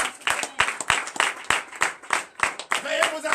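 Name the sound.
church congregation applauding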